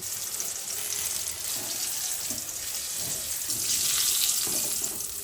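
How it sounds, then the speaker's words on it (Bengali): Pieces of chicken popcorn coated in flour and cornflour fry in hot oil, producing a steady, dense hiss and sizzle with a few soft pops, continuous and moderately loud throughout. "ময়দা কর্নফ্লাওয়ারের মধ্যে কোট করে নিয়েছি এবার ছেড়ে দেবো তেলের মধ্যে"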